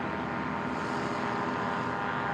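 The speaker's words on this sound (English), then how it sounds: "That sounds like a Stockmanized Rotax engine in that Rans S7." A Stockmanized Rotax engine in a Rans S7 light aircraft drones steadily and loudly with a buzzing propeller tone during a STOL drag race heat, continuous and close, with no talk.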